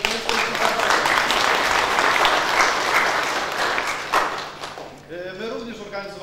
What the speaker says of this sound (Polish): wielkie brawa dla was wszystkich za to, że jesteście tutaj